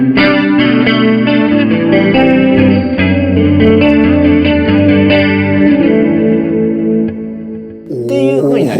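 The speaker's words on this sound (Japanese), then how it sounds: "さらにディレイをつけると" Electric guitar through a LimetoneHOME 4LB with chorus, reverb and delay layered on, a sustained shimmering chord wash with repeating echoes that holds loud for several seconds, dips briefly, then a fresh strum near the end.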